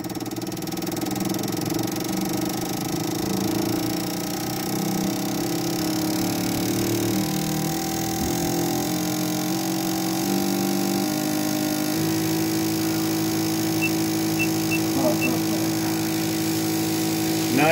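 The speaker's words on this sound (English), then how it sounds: "Now that it's firing, we'll go ahead and crank the RPMs up." Motorcycle fuel injectors on a spray and flow test bench hum and buzz steadily, driven at raised RPMs, with a fairly loud machine drone that rises in pitch partway through.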